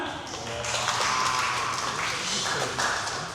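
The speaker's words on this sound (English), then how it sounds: "She can have a big clap for that one." Audience applause at an outdoor bird-of-prey flying display at Pleasurewood Hills, a steady wash of clapping from a crowd, moderately loud, with a voice talking over it.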